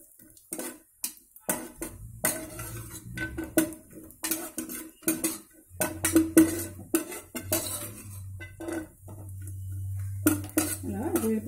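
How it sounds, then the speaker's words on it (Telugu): Cashew nuts being added to a pan for wheat rava prasadam, heard as a close sequence of clinks, taps and clatters of utensils against cookware, irregular and moderately loud, without talk. "జీడిపప్పు వేయబోతుంది."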